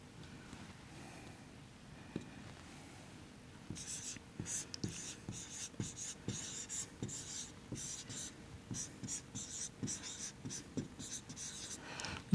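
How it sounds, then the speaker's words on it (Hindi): A pen or chalk writes by hand during a lecture, making faint scratchy strokes in irregular bursts that grow busier partway through, heard close with no talking over them. "इसको दोबारा लिखते हैं"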